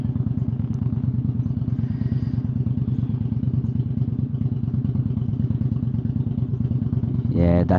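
A loud motorcycle engine passes close by on a busy urban road, keeping up a steady throbbing low rumble throughout and finishing with a brief rising whine.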